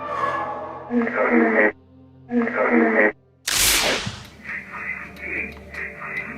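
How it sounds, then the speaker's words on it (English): Electronic voice phenomena recording: two bursts of distorted, voice-like tones in radio static, then a sharp crackling crash and a stretch of noisy, warbling hiss. "This is known as the electronic voice phenomena, or EVP"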